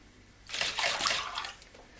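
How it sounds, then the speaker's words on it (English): Water is poured into a glass in a short, close, splashy burst that starts after half a second, swells for about a second and then tails off into quiet room hiss. "when we pour the water into the glass"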